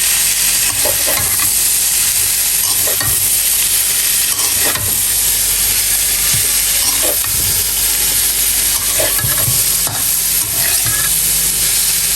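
Onions fried to light brown in a pan with boiled patties added, giving a steady loud sizzle with intermittent stirring scrapes and knocks throughout.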